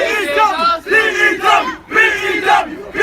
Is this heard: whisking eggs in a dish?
no